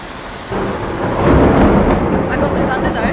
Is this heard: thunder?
yes